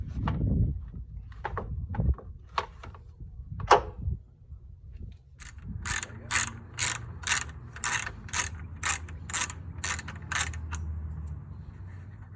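A ratchet backs out the 10mm grill bolts on a 2019 Custom Trailboss, a fast, even run of sharp clicks close by, after some scattered handling clatter and clunks at the start.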